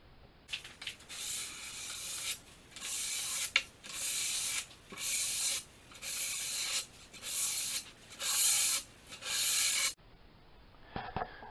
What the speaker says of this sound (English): I'll just lightly run the sandpaper with the grain to remove any high spots in the stained surface.